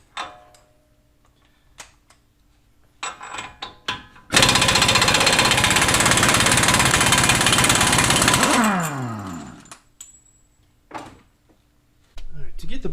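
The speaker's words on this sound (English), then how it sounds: "So now to get the center nut off here, I've got my 35mm socket." Power tool, likely an impact wrench, driving a 35mm socket to remove the center nut of an upper ball joint on a Trailblazer/Envoy; one loud continuous burst of about four seconds, with brief knocks and handling clatter before and after.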